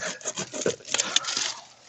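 A hand saw with a dull blade rasps back and forth through wood in quick, uneven strokes, close and moderately loud, with a brief scrape at the end.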